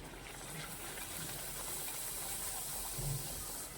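Puri deep frying in very hot oil, a soft, even hissing and bubbling that stays fairly faint and constant, with no voices.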